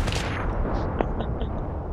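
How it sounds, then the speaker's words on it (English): Gunfire in the video game Battlefield 3, a dense run of loud shots and blasts that fades back into a steady din of battle noise. "Carl, you're shooting at nothing, you idiot."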